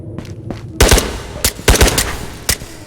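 Heavy gunfire from a large gun in the VR shooter Ghost of Tabor: several loud, sharp booming shots, a couple of them in quick pairs, standing out against quieter game ambience with no talking.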